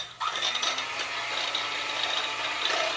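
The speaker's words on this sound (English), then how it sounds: "we are going to beat living crap out of this heavy whipping cream with a mixer" An electric hand mixer whipping heavy cream for a carrot cake, a steady close whirring hum with rattling beaters against the bowl, starting abruptly and running continuously without speech.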